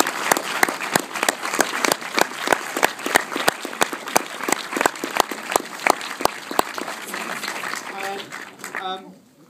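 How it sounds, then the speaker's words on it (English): Audience applause at a 48-hour film challenge festival in 2012, a dense crowd clapping steadily with sharp individual claps standing out, fading out near the end as a voice begins to speak. "give those people a round of applause"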